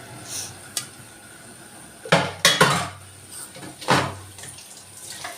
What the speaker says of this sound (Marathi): त्यात पाणी टाकून मी क्लीन करून घेते